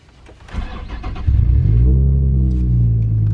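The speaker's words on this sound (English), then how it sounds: "Now turn the car back on while the clutch is in." A Nissan 350Z Nismo engine cranks with a short starter whir, then catches and settles into a loud, steady, deep idle, heard up close with no talking.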